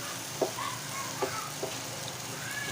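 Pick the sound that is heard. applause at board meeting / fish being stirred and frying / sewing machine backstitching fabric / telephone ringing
fish being stirred and frying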